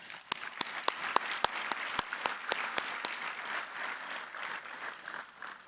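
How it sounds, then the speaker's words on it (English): Audience applause at a city State of the City 2022 event, heard as a sparse, fairly quiet round of scattered individual claps that thins out toward the end. "So let's give them a round of applause."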